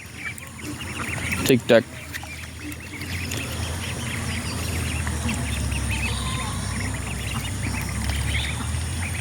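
A flock of domestic ducks on a farm, let out after rain, quacking steadily close by, with a person's brief speech and a couple of loud knocks near the start.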